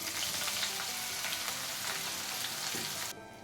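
Green chillies fry in a pan with asafoetida as they are stirred, a steady close sizzle with scattered crackles and light scraping that cuts out abruptly near the end.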